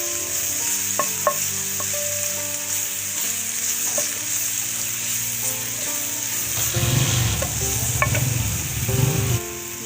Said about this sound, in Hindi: ये प्यारे से पैन में मैंने 2 टीस्पून घी शामिल किया है। और ये इसमें लहसुन अदरक शामिल कर रही हूँ।